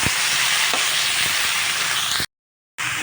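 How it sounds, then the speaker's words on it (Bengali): Vegetables frying with onion in a pan hiss in a loud, steady, close sizzle with a few faint stirring knocks, broken by a short moment of silence. "এবার নাড়াচাড়া করবো"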